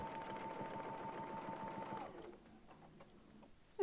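Sewing machine stitching along a ruler template, a rapid even mechanical whir with a faint steady tone that stops midway, followed by quieter handling clicks.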